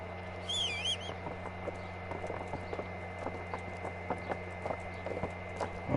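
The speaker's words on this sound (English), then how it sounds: "Oh, you dumb fucking horse." Horse hooves clip-clopping in the video game Kingdom Come Deliverance, a steady rhythmic trot of distinct hoof strikes over a low ambient hum, with brief birdsong near the start.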